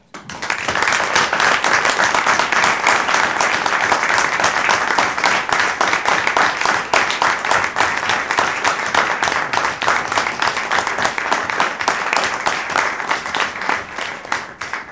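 A municipal council audience applauds the town's services during the installation meeting in Bressuire, a long sustained round of dense clapping, loud and even throughout, with no talking over it.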